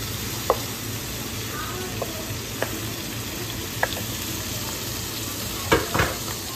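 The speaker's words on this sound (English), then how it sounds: "Stir that around, get that mixed up with the rice, garlic, and the oil." Rice being stirred in a pan with garlic and oil, a soft steady sizzle broken by a few sharp scrapes and clicks of a utensil against the pan, close by with no talking.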